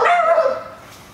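A single sharp dog bark rings out outdoors, close and loud, then trails off into quiet.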